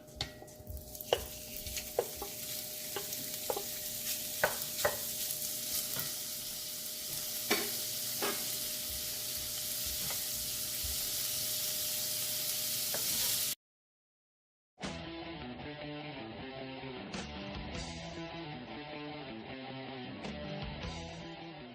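Marinated, diced beef tenderloin sizzles and fries in a pan for a chili, with a steady hiss and sharp pops of stirring. After a short silence the sizzling returns, denser and busier.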